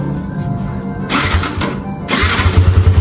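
A brand-new motorcycle with zero kilometres on it is started: quiet background, then a cranking burst and the engine catching into a rough, close idle that grows louder near the end.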